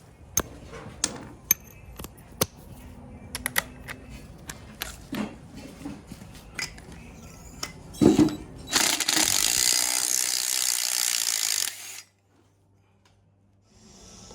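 A hand ratchet working a 5/8 spark plug out of an Acura RSX Type S engine, with scattered clicks and clanks, then a few seconds of steady loud mechanical noise that cuts off abruptly, close by in a garage.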